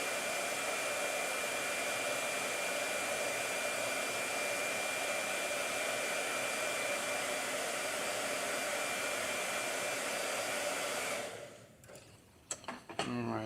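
A hair dryer blows with a steady, loud whoosh for about eleven seconds, then cuts off, followed by a few faint handling knocks.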